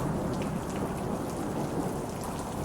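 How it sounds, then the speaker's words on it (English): Heavy rain pours down in a dense, constant hiss and patter, with a deep low rumble beneath that may be thunder, steady and unbroken throughout with no voices. "I hear the rain."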